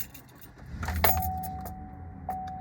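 A Chevrolet Tahoe from the 2015 to 2020 range starts up: a short starter crank catches into a quiet idle, with a steady warning chime repeating in the cab and no one talking.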